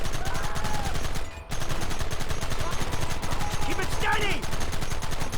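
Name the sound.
gunfire in the video game Red Dead Redemption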